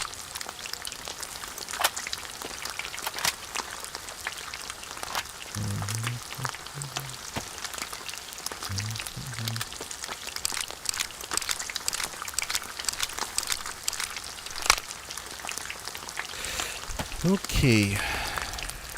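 Rain falls in a steady crackling hiss of dense drops on a surface, with a few short bits of talk over it.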